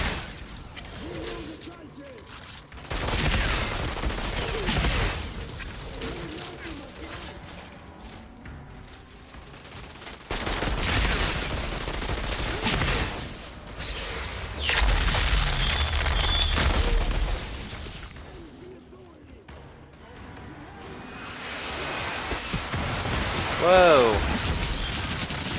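Enemy gunfire in the shooter game Outriders erupts in several loud, dense bursts with booming impacts, separated by quieter gaps, while a voice talks over parts of it.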